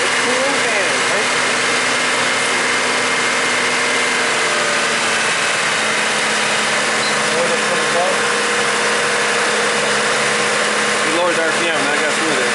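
A Chevy Trailblazer engine idles steadily with a constant low hum and faint vibration throughout, while a cooling fan runs and people talk nearby.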